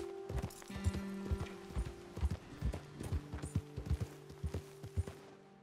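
Horse hooves clip-clop steadily on a trail in the Red Dead Redemption 2 video game, a close, even rhythm of many hoof falls with a low hum of background ambience beneath.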